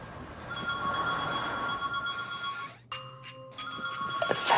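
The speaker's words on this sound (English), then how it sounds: "The phone is ringing," A telephone rings at an unattended hotel reception desk, a bright electronic tone repeating steadily, then cutting out and starting again in a different ring pattern, clear and fairly close with no voices.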